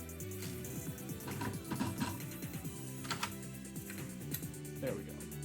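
A typewriter clatters with irregular bursts of key strikes and mechanical clicks, close, under a speaking voice.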